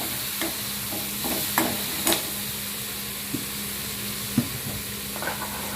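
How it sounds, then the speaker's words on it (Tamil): Tomatoes sauté in a pan for okra chutney, giving a steady, even sizzle with occasional soft stirring knocks and scrapes, close and alone. "இப்போ வந்து நம்ம தக்காளி அப்படியே இதோடு சேர்த்துட்டு நல்லா வதக்கி விட்டுருங்க"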